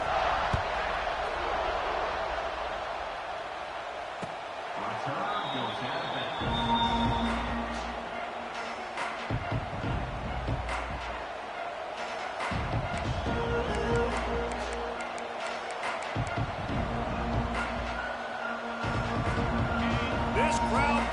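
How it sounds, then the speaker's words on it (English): In a football video game, a steady roar from a large stadium crowd rumbles on beneath continuous commentary, swelling slightly now and then. "This crowd bringing the energy and noise early."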